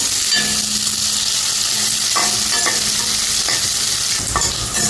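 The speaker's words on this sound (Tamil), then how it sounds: "நல்லா வதங்கட்டும், பச்சை வாசம் போக வரைக்கும்." Onions and green chilies sauté in a hot pan for banana flower poriyal, giving a steady, loud sizzle with occasional stirring scrapes throughout.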